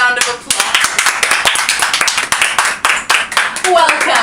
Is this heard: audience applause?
yes